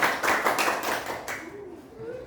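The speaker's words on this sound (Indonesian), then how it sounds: "Tepuk tangan buat kita semua." Schoolchildren clap together in a classroom, a brief burst of dense hand claps that tapers off as a voice speaks over it.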